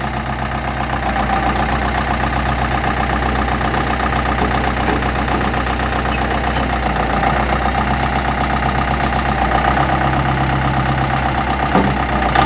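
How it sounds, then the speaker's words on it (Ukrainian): A Kubota L1-345 tractor's four-cylinder turbo diesel engine idles steadily and loudly up close, a constant low rumble with a rhythmic clatter throughout. "Чотирьохциліндровий турбований двигун масивний"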